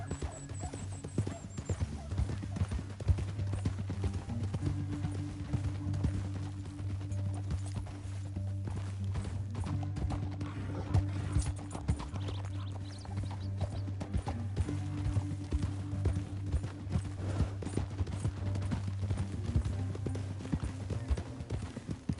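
Horses clip-clopping along in the video game Red Dead Redemption 2, a steady stream of hoofbeats with a low rumbling drone beneath, moderately loud and continuous, with faint occasional whinnies.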